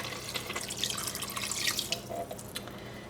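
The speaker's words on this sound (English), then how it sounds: "you're going to take your water, going to add it all to the pot like this" Water poured into a pot of chicken curry sauce in a Singapore cooking lesson, a steady close splashing and trickling pour lasting a few seconds with no talk.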